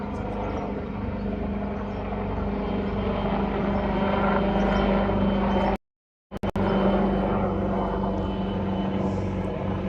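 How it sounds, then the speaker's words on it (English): A helicopter's steady rotor drone fills the air over a lakeside in Toronto at early morning, loud and continuous, broken once by a brief dropout before the thrumming resumes. "Helicopter."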